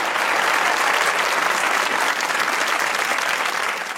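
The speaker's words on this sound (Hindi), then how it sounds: "ताली होनी चाहिए" A studio audience at a Pakistani TV comedy show breaks into sustained applause, a dense, loud wash of clapping that holds steady for about four seconds before easing slightly at the end.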